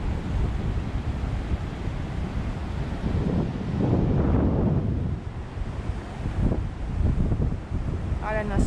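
Steady warm wind rushes over the microphone at a beach in Hua Hin, Thailand, with surf rumbling underneath and a faint voice briefly audible.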